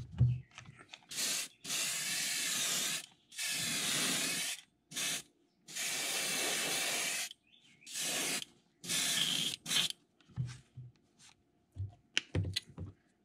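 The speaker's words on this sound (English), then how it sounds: "So just gonna again coat the entire lure with that pearl white." An airbrush sprays pearl white paint over a fishing lure in a series of short hissing bursts of one to two seconds each, separated by pauses filled with faint handling clicks and taps.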